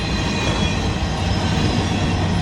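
A BNSF coal train rolls past at steady speed, a continuous loud rumble of heavy wheels and cars on the rails with no break.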